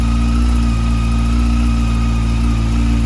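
A Honda CBF 600 motorcycle engine with a small exhaust header leak runs steadily at idle, close and loud, with an even, continuous drone and no talking.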